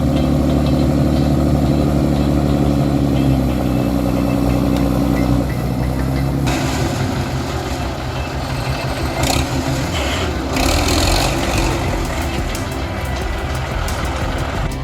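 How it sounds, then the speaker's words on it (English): A forestry tractor loaded with logs, stuck in mud, drones with a steady heavy engine note that shifts partway through as it strains and revs, loud and close, with no voices. "a tractor stuck in the mud while carrying logs"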